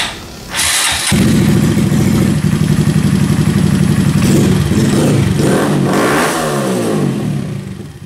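A Honda Grom motorcycle with an aftermarket exhaust cranks and catches, then settles into a loud, rumbling idle with a few sharp throttle blips near the end.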